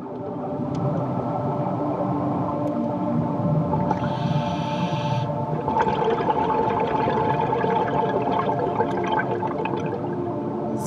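Underwater ambience on a shallow reef where seals gather, with a constant low watery rush, scattered clicks and crackles, and a brief burst of higher hiss partway through; no voices.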